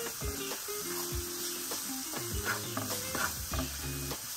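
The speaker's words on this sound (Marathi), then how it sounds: "एवढाच कांदा परतायचा आहे" Chopped onion sautés in a pan, with a steady sizzle under repeated metallic scrapes and clinks as a spatula stirs it against the pan, close up and with no talking.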